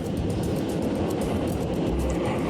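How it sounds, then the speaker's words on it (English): An airport terminal shuttle train pulls away and gives off a steady low rumble with a broad whoosh of rolling noise, heard from on or near the train. The sound stays constant and moderately loud, with no speech. "Okay, the train's leaving."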